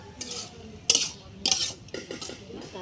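Bottle gourd curry being stirred in a pan, with several sharp clanks and scrapes of a utensil against metal over a quiet background.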